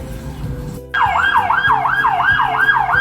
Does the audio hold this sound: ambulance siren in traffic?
yes